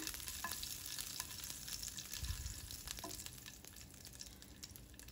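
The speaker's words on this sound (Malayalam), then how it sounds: "എണ്ണ ചൂടാവുമ്പോൾ കടുകിട്ട് പൊട്ടിക്കാം" Mustard seeds, dried chillies and curry leaves fry in hot oil as a faint, close sizzle with scattered crackles and pops, steady throughout.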